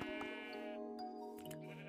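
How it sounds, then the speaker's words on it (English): Sheep in the video game Minecraft bleat in a wavering, nasal cry, with a second shorter bleat following, clear and fairly quiet, with no talking. "Let me just kill the sheep."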